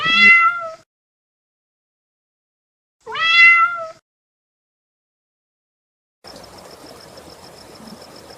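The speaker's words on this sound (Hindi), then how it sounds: "ओह, ये तो बिल्ली है। इस बिल्ली ने तो मुझे डरा ही दिया।" Two clear cat meows a few seconds apart, close and loud, followed by a faint hiss of background noise.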